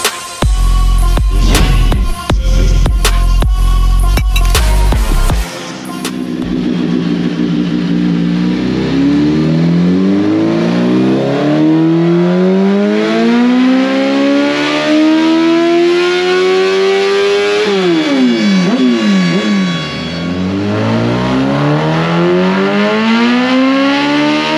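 A first-generation 2002 Suzuki GSX-R 1000 sportbike on a dyno, a few sharp throttle blips then a long, loud full-power pull with the engine pitch sweeping up through the gears and dropping between shifts.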